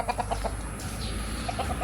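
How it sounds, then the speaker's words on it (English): Chickens clucking in short bursts at a rural home in the Philippines, nearby and fairly clear over a low steady background hum. "Where are they going, these chickens?"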